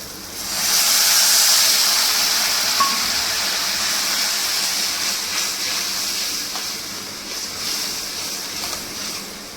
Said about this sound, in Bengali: এবার আমি জল দেব